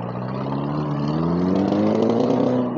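A modified motorcycle engine revs steadily and loudly up close, its pitch climbing gradually as the throttle builds, with no talk over it.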